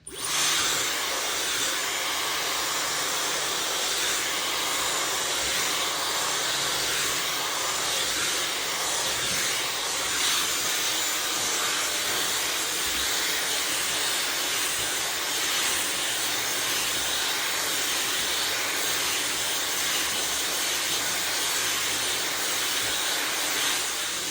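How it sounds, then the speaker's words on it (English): A handheld blow dryer drying hair gives a continuous, even hissing whir that runs unbroken for the whole stretch, close and fairly loud, with no talking. "So I'm just going to take the blow dryer one more time and go through my hair again."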